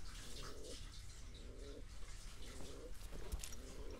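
A bird, apparently a pigeon or dove, coos in several soft, repeated low phrases against a dim, noisy background.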